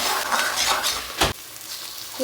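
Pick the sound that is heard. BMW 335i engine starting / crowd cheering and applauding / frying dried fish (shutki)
frying dried fish (shutki)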